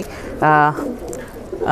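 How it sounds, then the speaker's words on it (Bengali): Two bursts of low, throaty cooing from an old-breed black-necked pigeon, close by, with quieter murmuring sounds between them. "একদম পুরান জাতের কবুতর"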